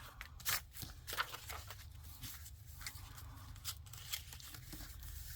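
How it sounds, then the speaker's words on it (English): Close, quiet scissor snips over a soft, busy background, with several short crisp cuts clustered early and a few fainter ones spaced out later. "Do a little snip there."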